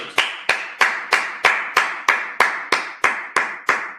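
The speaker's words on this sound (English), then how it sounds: "Yeah, clap it up." A congregation at a Sabbath service claps in tight unison: about thirteen loud, sharp claps on a steady, even beat, with no talking over them.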